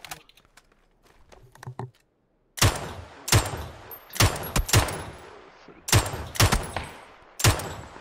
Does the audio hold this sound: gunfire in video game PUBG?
yes